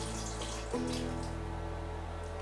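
Water poured from a tap into a cooking pot for a reindeer meat stew, a steady rushing flow with a sudden shift in tone partway as the stream settles, close and continuous.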